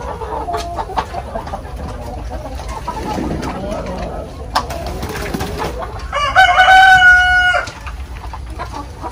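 Roosters crow loudly and up close among a flock of breeder chickens on a farm, with a long harmonic crow near the end standing out over steady background clucking and farmyard bustle.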